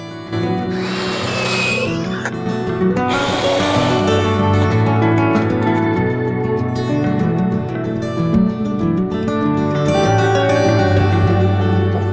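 A power drill whines steadily for several seconds, its motor pitch wavering slightly as it pre-drills through wood, fairly loud and close.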